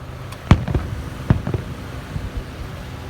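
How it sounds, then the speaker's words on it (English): Fireworks burst at night in a few sharp, booming pops, two strong blasts with smaller crackles trailing after, heard from a moderate distance. "Fireworks use all kinds of stuff."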